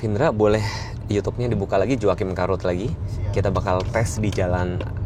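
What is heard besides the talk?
None of the usual background noises is heard.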